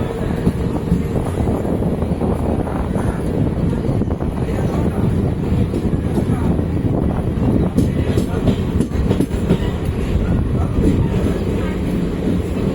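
The Charminar Express passenger train runs on rails after leaving Tambaram, heard from inside as a constant loud rumble and rattle of wheels and coaches with wind noise, steady for the whole stretch.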